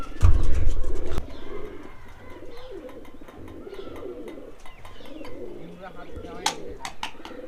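Loft pigeons coo over and over in low throaty calls, close and moderately loud, with scattered sharp clicks and scuffles as they scramble to drink medicated water, opening with a brief heavy thump.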